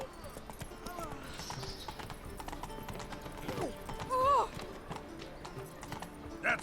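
Roach, a horse in The Witcher 3, gallops with a fast clip-clop of hooves at moderate distance, then whinnies briefly, while a voice speaks over the hoofbeats.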